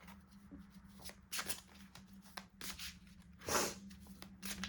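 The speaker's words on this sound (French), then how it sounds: "Donc je prends une dernière carte dans le tarot" Quiet, close rustling and sliding as a tarot card is drawn from the deck, a few soft papery shuffles and one brighter swipe near the end, with no speech.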